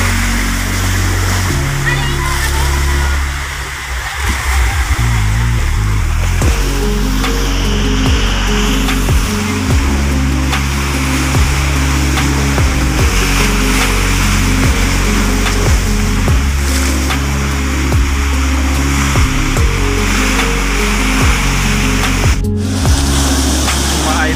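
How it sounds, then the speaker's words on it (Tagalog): Ocean waves at sea around a small boat carrying a father and his children, a continuous loud rush of surf and spray layered over a steady low droning hum, with a voice breaking in now and then. "yan na yung alon"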